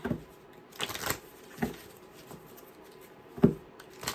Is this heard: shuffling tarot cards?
yes